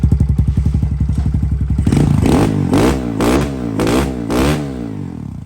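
A Kawasaki KLX110L dirt bike engine idles with a steady chugging pulse, then is blipped through several sharp, loud revs that rise and fall in quick succession, close to the listener.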